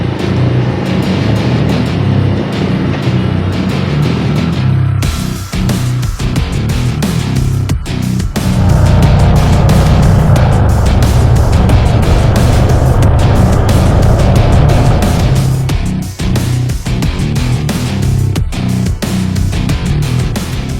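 A motorcycle rumbles steadily while riding downhill through curves, its engine loud and close throughout with changes in pitch and load as it leans through the bends.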